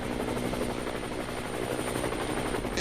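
Helicopters hovering over Parliament Square, a steady, continuous rotor thrum with a dense broadband roar that holds at an even loudness throughout.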